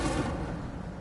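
An Incendio fire spell cast in Hogwarts Legacy bursts out as a brief, loud whooshing blast that fades quickly, heard alone.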